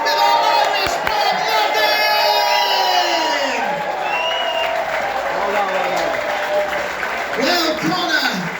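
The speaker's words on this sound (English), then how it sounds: "please keep that applause going for Kurt, Alex, and Conor O'Boyle" Audience applause and cheering at a comedy pub show in an Irish pub, loud and continuous with whoops and shouts, while an announcer's voice talks over the crowd throughout.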